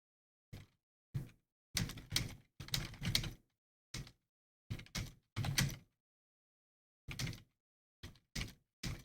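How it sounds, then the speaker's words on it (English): Typing on a keyboard comes in short, quiet clusters of rapid key clicks separated by brief silent pauses, close and alone with no talking. "let me type this real quick"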